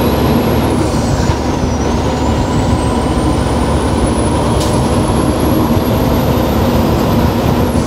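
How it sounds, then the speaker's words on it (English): A Peterbilt 389 truck cab on the road, with continuous loud low engine drone and road rumble throughout, plus a faint high whine that dips and rises. Gear grinding is not clearly distinct within the steady noise, and no one speaks. "I'm grinding them gears"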